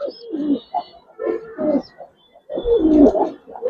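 Giribaz pigeons, colouring and silver birds, coo in close, repeated throaty rolling phrases with short pauses between calls, loud and without talk.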